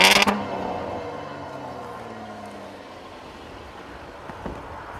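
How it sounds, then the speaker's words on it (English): A 2014 Jaguar XJL's six-cylinder engine revs with a sharp burst at the start and then settles into a steady, slightly raspy drone that holds alone at moderate loudness until a brief blip near the end. "It's got a little bit of a raspy edge to it, but the six-cylinder is not as deep or throaty as that supercharged 8"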